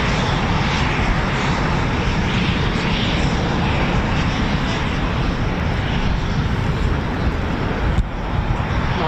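Eurofighter Typhoon FGR4 jet flying at RAF Coningsby, a loud, steady, broadband engine roar that fills the whole stretch without letup, with a brief dip near the end.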